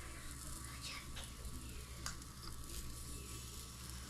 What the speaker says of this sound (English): So if you can hear the sizzle, you know, similar to a waffle maker.